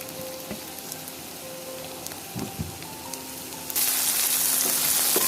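Salted vegetable peels and garlic frying in a pan, a continuous close sizzle with occasional stirring taps, growing louder and hissier toward the end.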